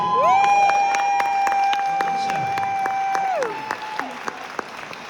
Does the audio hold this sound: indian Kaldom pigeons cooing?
no